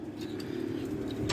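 Racing pigeons in a loft cooing softly, a continuous low murmur of coos with a few faint chirps, close and steady with no talk.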